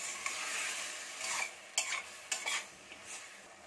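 Sliced radish frying in a hot tempering for sambar, with a steady sizzle and several sharp scrapes of a spoon stirring against the pan, close and without talk.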